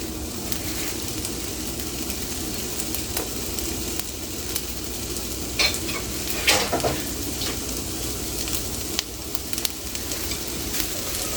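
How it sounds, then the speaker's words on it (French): Onions fry in olive oil in a pan with a steady, close sizzling hiss, broken now and then by brief scraping clicks as they are stirred, with no talking. "un peu d'huile d'olive, mettre nos oignons,"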